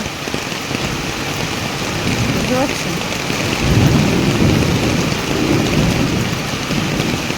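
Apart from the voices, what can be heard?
first heavy rain with thunder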